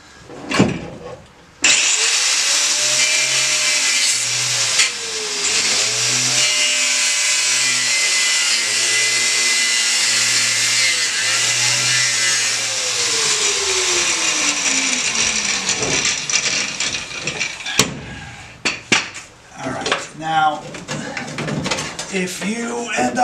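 Power tool cutting through a thick closed-off metal piece near a parking brake, sparks flying, a loud sustained grinding whine that holds steady for about fifteen seconds before breaking into irregular bursts and clatter.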